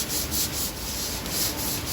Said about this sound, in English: Sand this primer down